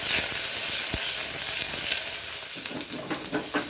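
Potatoes being sautéed in a pan for a potato fry, a loud, constant oily sizzle broken by spatula scrapes and a sharp knock near the start, heard up close without any voices.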